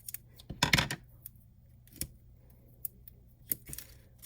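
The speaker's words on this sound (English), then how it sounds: "Cut this one in half so it'll fit." A paper card cut in half with scissors while making an under-the-sea octopus shaker card: one dense snipping burst near the start, followed by a few sparse, quieter clicks and snips against a low steady hum.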